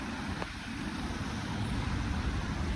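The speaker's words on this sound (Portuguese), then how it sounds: "Os carros." Road traffic rumbles steadily in the distance, a faint continuous wash of passing-vehicle noise with no voices over it.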